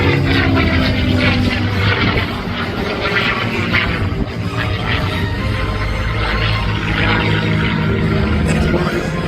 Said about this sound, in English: Mark and Diamondback in the P-51 victory roll